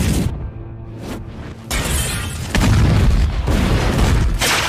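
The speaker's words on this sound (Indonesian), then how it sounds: "melemparkan bom molotov ke arah zombie. Mereka juga meledakkan tempat tersebut." A Molotov cocktail explodes in a zombie film scene, a sudden loud boom and shattering crash that builds into a sustained roaring blaze with layered crackling bursts close by.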